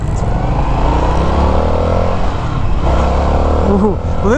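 A 2022 Indian FTR S motorcycle accelerates hard in sport mode on a demo ride. Its close, loud engine note climbs steadily beneath a voice, with a throttle blip near the end.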